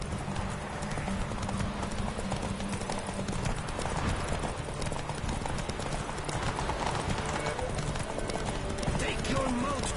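A horse gallops hard in The Witcher 3 video game, its fast drumming hoofbeats dense and loud over a continuous wash of game music and action noise.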